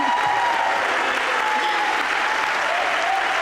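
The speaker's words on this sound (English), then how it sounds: "round of applause." Sustained audience applause at a graduation celebration fills the hall, dense and steady throughout with a faint voice briefly audible beneath the clapping.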